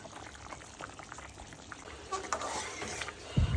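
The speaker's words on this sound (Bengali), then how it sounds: "দেখো সুন্দর বলক উঠতেছে" A curry of potatoes, pointed gourd and prawns bubbles away in a pot, a soft steady simmer that swells a little louder toward the end, finishing with a brief low knock.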